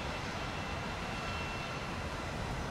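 A-10 jet turbofan engines in a combat flight video game produce a steady, rough broadband roar, loud and continuous with no breaks, heard without voices.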